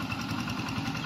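A hand tractor engine runs in a rice field with a steady, low mechanical chugging and vibration, a fairly quiet and even drone heard alone.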